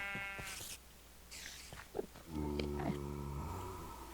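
Sheep bleating in the Minecraft video game, a few harmonic bleats with a longer low-pitched one near the end, clear and up close over light game sounds.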